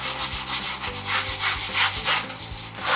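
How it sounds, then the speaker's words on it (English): Sandpaper rubbing steadily back and forth across a coroplast wing piece for a trainer aircraft build, loud and close, in an even rhythmic rasp with no voices. "Once it's done properly, you can go ahead and sand the other piece."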